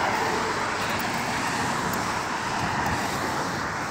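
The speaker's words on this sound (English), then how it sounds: "These cars." Steady roadway traffic noise of cars going by on a street, a continuous broad rushing hum with no clear single pass, moderately close and without talk.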